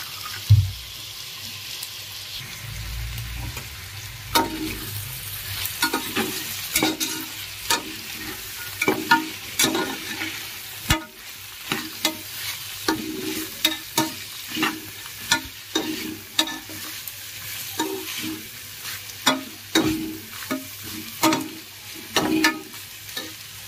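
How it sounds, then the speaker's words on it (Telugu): Diced vegetables and green peas sizzle in a pan for mixed veg pulao, with repeated sharp scraping stirs of a spoon punctuating a steady, soft frying hiss. "మనకి ముక్కలన్నీ లైట్గా ఫ్రై అయిన తర్వాత మనం ఇందులోకి మనం పచ్చి బఠానీని యాడ్ చేసుకుని ఫ్రై చేసుకోవాలి."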